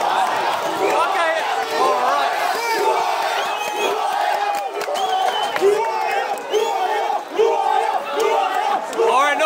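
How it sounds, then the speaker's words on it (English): A loud stadium crowd at a Castle Vale football match roars and chants continuously, many voices shouting together in a dense, sustained wall of noise. "This is the loud crowd and reaction."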